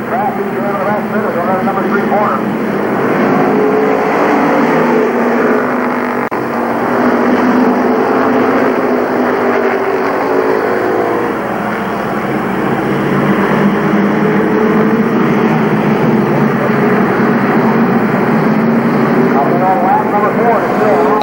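Race cars circling Columbus Motor Speedway during a 1994 main event, a steady, loud drone of engines and crowd noise with no gaps, heard from a distance.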